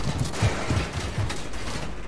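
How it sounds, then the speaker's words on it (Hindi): Drum gun firing in Fortnite, a rapid burst of muffled automatic shots rattling in quick succession, fairly close and steady over a constant background. "drum gun drum gun drum gun"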